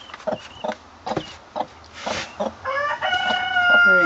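A quail hen and her chicks in a cage, giving a run of short clucks and chirps followed by higher, longer trilling calls, close and fairly clear without talk.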